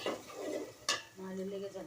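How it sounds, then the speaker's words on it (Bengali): Dry chili powder being stirred in a cooking pan: scraping stir strokes with a sharp clink of utensil on metal near the middle, then a steady faint tone, close and fairly quiet with no talk. "শুকনো মরিচের গুঁড়া দিয়ে দিলাম। নাড়াচাড়া করে দিই"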